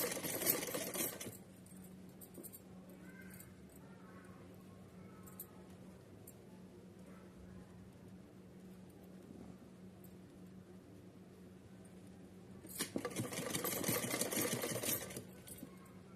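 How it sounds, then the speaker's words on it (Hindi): A sewing machine stitches a fabric strip on a small dress. A short rapid whirring burst opens the clip, then near silence, then a second longer burst of fast stitching near the end. "यहाँ मोड़ के इस पट्टी में दबाते हुए सिलना है"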